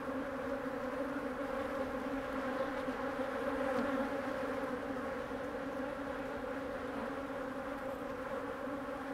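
A dense, steady hum of many agitated bees buzzing together at a hive, close and continuous throughout, with no voices.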